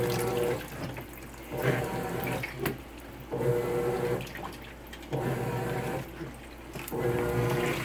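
A washing machine on a cold wash cycle, water sloshing and running in repeated surges of a few seconds each, separated by brief quieter pauses, moderately quiet and with no talk.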